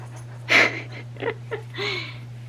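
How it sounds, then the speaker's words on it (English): A dog digging and panting nearby: a few breathy, huffing bursts and scrabbling scrapes of uneven length over a steady low electrical hum, with no one talking. "my dog is digging."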